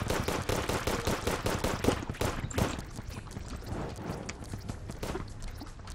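Rapid gunfire in the 2D game Terraria: a fast, steady string of punchy shots that is loud at first, then thins into fainter, scattered pops.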